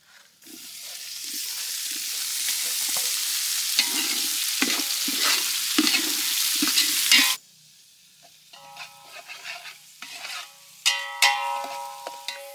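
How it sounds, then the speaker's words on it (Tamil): Chopped tomatoes hit a hot pan of spiced oil for a village-style Kerala chicken curry and sizzle loudly under stirring. The sizzle then drops to a quieter simmer with scattered spoon scrapes. "நறுக்கி வச்சிருக்க தக்காளி சேர்த்துக்கலாம்."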